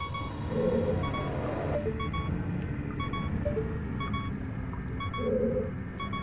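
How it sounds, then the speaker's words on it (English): Repeating beep pattern from the Zelda Ocarina of Time low-health warning, short high tone bursts returning roughly every second over steady game rumble and ambient background. "Alright, so we can stop the beeping."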